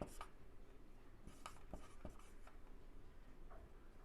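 Pen writing an answer on paper, quiet scratchy strokes in short bursts with faint taps, close and soft against low background noise.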